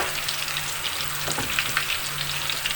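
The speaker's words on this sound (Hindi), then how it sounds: "मैं एक एक करके इनको फ्राई करूँगी।" Koftas frying one by one in hot oil for a kofta biryani, a steady dense sizzle and crackle running throughout at moderate level, with a brief stir or bump near the middle and no talking.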